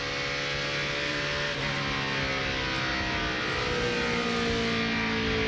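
NASCAR Craftsman Truck Series race trucks, including a Dodge, drone around an oval together, a steady mid-level engine roar with sustained tonal whine and a slight shift in pitch as they jostle for position.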